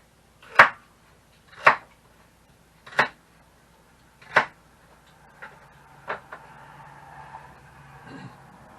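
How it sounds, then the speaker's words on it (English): Celery being cut into pieces with a knife: four crisp, evenly spaced chops ring out clearly, followed by three softer, quicker cuts, with no one talking. "Cut bigger pieces"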